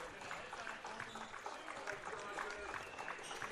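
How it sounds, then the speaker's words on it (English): Away fans in a college basketball gym cheer and clap for their team in the final seconds of a game, a steady broad crowd roar with scattered claps and shouts filling the space. "Away fans cheering their team on as we enter the last 10 seconds."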